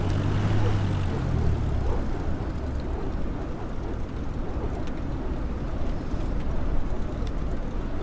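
A Cessna 172 propeller engine drones steadily in flight over Alaska in a flight simulator, a continuous low hum with a broad rumbling wash that holds even throughout, no voices.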